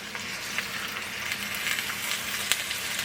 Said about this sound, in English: Move those potatoes around.